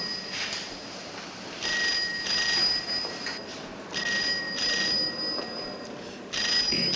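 Old-style telephone ringing in an Egyptian film scene, repeating bursts of bright bell tone at steady intervals over a constant background hiss, fairly loud and without talk.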